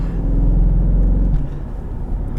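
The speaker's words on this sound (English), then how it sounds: "the little burbles when you upshift under full acceleration" A 2014 Jeep Grand Cherokee SRT engine pulls loud and steady under full acceleration, then drops off into brief crackling exhaust burbles as it shifts up.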